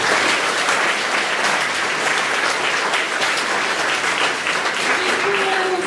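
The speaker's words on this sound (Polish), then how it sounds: "Brawa dla mnie." An audience applauds at the finale of a theatre performance closing a summer arts academy. Dense, steady clapping fills the room, loud and continuous throughout, with a faint voice or two underneath.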